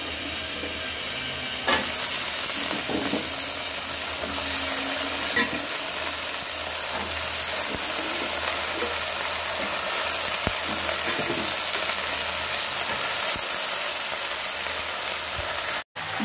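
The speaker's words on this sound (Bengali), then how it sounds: "এখন আমার পেঁয়াজটা ভাজা ভাজা হয়ে গেছে" Onions fry in a pan with a loud, steady sizzle heard close up, broken by occasional stirring scrapes and clatters, with no voices.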